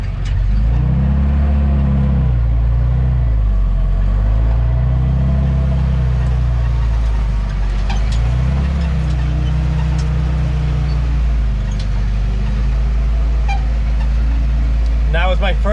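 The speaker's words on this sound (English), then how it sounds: "That was my first successful road trip in my CJ5" A Jeep CJ5 engine drones loud and close while driving on the road, its low rumble rising and falling with gear changes, a heavy steady cabin roar with faint clicks over it.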